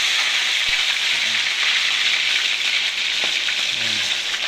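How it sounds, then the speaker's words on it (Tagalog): Milkfish (bangus) frying in hot cooking oil, giving a loud, steady sizzle throughout with a few sharp pops and crackles breaking through. "Nagpainit na ako ng mantika. Kasi ipiprito ko na siya ngayon to."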